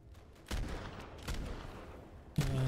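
Weapon fire in the co-op game Deep Rock Galactic, shooting at alien bugs during an elite deep dive: a few separated bursts of shots amid a rumbling background, moderately loud, with a stronger burst at the end.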